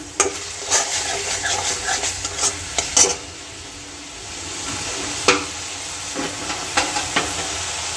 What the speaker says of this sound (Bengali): আমি এবার এটাতে একটুখানি জল অ্যাড করব যাতে মশলাগুলো ভালো মতো করে, ফ্লেমটা হাইতে দিলাম